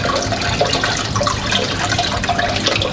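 Running water rushes steadily over lentils being rinsed, a loud continuous splashing flow with no pauses throughout.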